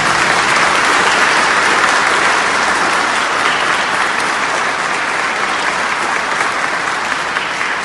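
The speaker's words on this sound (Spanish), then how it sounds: "¿No quieres darle un fuerte aplauso a Jesús Mesías?" Loud, continuous applause from a congregation during a Sunday Gospel service, a broad uniform wash of clapping that stays strong for around eight seconds.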